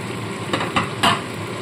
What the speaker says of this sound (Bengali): 5 থেকে 6 মিনিট চিকেনটাকে এইভাবে সমানে মশলার সাথে কষিয়ে নিতে হবে